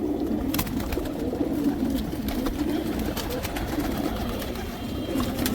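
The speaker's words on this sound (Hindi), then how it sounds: "बिल्कुल नहाए धोए साफ़ सुथरे कबूतर" Pigeons coo steadily in a low, continuous murmur, with several birds close by and occasional sharper calls and flutters over the top.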